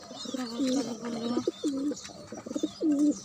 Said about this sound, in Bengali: আমার কবুতর